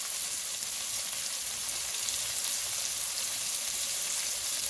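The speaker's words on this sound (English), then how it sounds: "You see if you can hear that nice sizzle" Meat sizzles in a pan at a camp cookout, a soft, steady hiss and crackle that holds evenly throughout without any talking over it.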